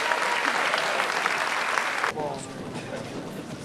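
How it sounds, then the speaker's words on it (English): Dense applause from an audience at a high school senior awards night, loud and steady for about two seconds, then dropping abruptly to a quieter, thinning clatter of claps. "We can give him one more round of applause."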